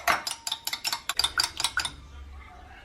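A spoon stirs chicken breast and avocado salad dressed with olive oil in a bowl, giving a quick run of close clinks and scrapes against the dish that stops after about two seconds.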